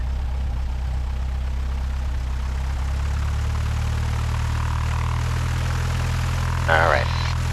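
A Cessna 172 propeller engine drones steadily and loudly inside the cockpit during takeoff from runway 3 at Kahului, Maui, a constant low hum with a brief radio-like voice burst near the end.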